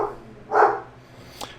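A single dog barks once at mid distance, a short loud burst standing out against a quiet background with a faint click near the end.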